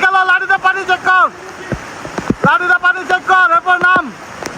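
Rushing hill-stream flash-flood water at the Khaiyachora waterfall stream in Mirsharai, Chattogram, a steady broadband wash running beneath loud, close voices that talk almost continuously.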